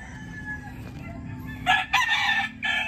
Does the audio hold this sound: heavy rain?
no